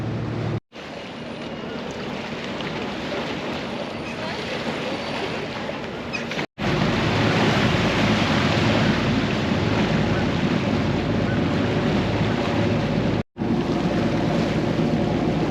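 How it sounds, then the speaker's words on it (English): A ferry crossing a lake in the Lakes, pulling away from Bowness, with a steady, loud rush of engine drone, water and wind buffeting the microphone that runs almost without break, cut by a few brief dropouts. "Now we're back on the ferry."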